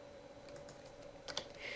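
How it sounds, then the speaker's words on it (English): Typing on a computer keyboard while writing a clinical note, quiet steady key clicks with a brief faster burst of keystrokes near the end, alone with a low background hum. "Then I can finish typing in the rest of my"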